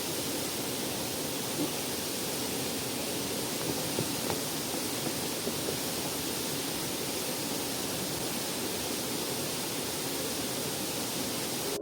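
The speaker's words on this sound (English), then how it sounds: "waterfalls descend like silver ribbons from emerald cliffs." A rainforest waterfall pours down from cliffs in a dense, unbroken roar that holds at an even level throughout.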